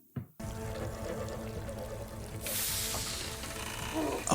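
Water gushes from a burst water line in a TV drama scene, a steady rushing pour that swells louder partway through, with mechanical background hum and no talk over it.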